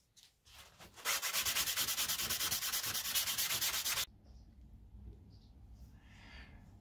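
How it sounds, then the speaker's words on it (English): Rapid back-and-forth sanding of grey primer on a scale model, a loud rhythmic scratching for about three seconds, then quiet handling noises. "So once the whole model has been sanded down and the grey primer is all sanded away"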